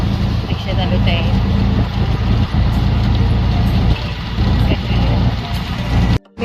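An auto rickshaw engine drones steadily while driving across a bridge in Vashi, near the APMC market, with loud traffic rumble and road noise throughout.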